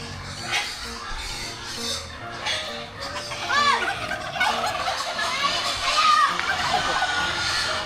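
Farm poultry heard near and loud amid the lively chatter of children and adults, with clucking and gobbling calls rising in short bursts over the talk.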